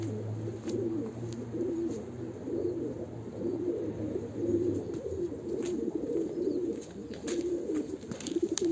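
Breeding pigeons or doves cooing steadily outdoors, a low continuous chorus of overlapping coos with faint chirps above, moderately loud and without talk.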